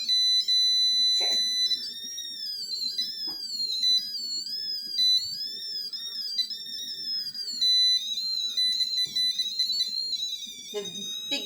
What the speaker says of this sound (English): The big beep beep beep.